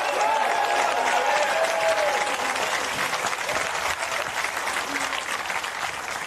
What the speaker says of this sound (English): may we have another round of applause for both our finalists